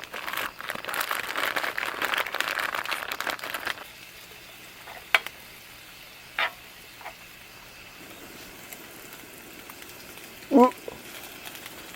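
Vegetables stir-frying in a pan at a campsite for sundae bokkeum: a loud, dense sizzle for the first few seconds, then quieter pan noise with a few sharp utensil clacks, under occasional voices.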